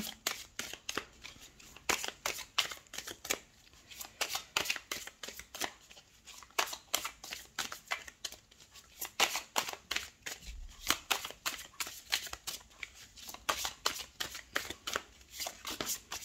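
Tarot cards being shuffled by hand, a rapid run of crisp riffling bursts repeating in quick succession, close and clear, with no talk.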